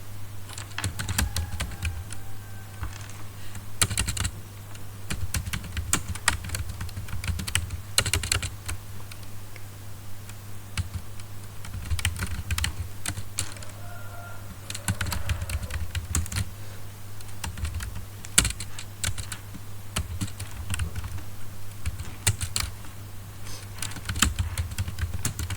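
Rapid clicking of keys on a computer keyboard, typed in irregular bursts with short pauses over a steady low hum, close and fairly quiet, with no talking.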